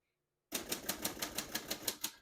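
A 1937 Royal O Model portable typewriter typed at an even pace, about ten sharp, close keystrikes in quick regular succession after a brief silence.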